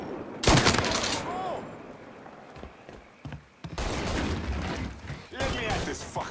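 Bursts of gunfire in the video game Mafia 3, loud rapid volleys at the start and again in the second half, with voices talking over the shooting.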